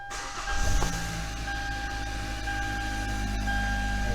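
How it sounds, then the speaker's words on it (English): A Hyundai Elantra GT with an intermittent no-start fault cranks briefly and catches, then settles into a steady, close idle hum that continues evenly to the end. "let's start the car"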